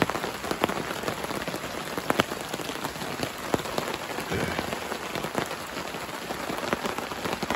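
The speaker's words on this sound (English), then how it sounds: "It is raining." Steady rain drums on a tent canopy in a forest campsite, a dense close patter of drops with occasional sharper heavier hits, continuous throughout with no voices.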